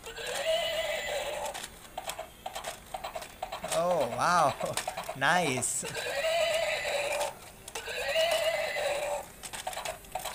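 A battery-operated toy horse plays a loud electronic whinny, two warbling neighs in quick succession, alongside clip-clop hoofbeat sounds, while a person talks excitedly before and after.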